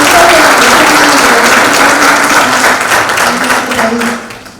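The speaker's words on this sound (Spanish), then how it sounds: "Un fuerte aplauso para el doctor César Landa" Loud audience applause at a Peruvian legal lecture on constitutional history, dense sustained clapping from a seated crowd that tapers off toward the end.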